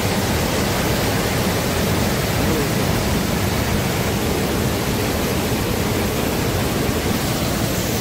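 A waterfall on a Nepal tour near Pokhara and Jomsom, heard from a bridge, sends up a loud, steady roar of rushing water that fills the whole clip without letup and with no voices.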